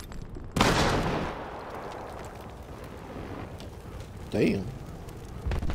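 An incendiary grenade in the video game Battlefield Hardline ignites with a sudden loud whoosh that fades into a low crackling burn, followed by a second flare-up and a short muttered voice.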